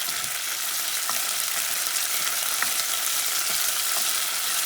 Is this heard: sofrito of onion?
yes